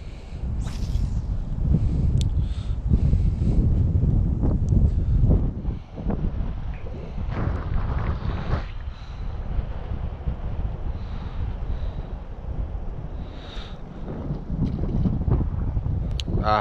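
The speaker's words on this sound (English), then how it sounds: "a little windy out here today" Strong wind buffets the microphone in heavy rumbling gusts while bass fishing outdoors in Texas, with no talking, sustained throughout.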